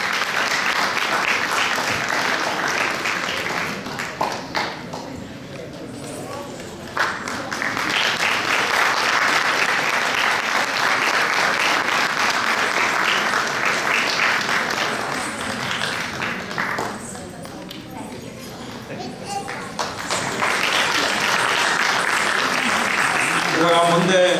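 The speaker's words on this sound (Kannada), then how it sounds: "ಎಲ್ಲರೂ ಚಪ್ಪಾಳೆ ತಟ್ಟಿ ಅವರನ್ನ ಸ್ವಾಗತಿಸಿ" An audience applauds continuously to welcome guests at a Deepawali community celebration, with dense, loud clapping that swells and dips slightly in waves over the whole stretch.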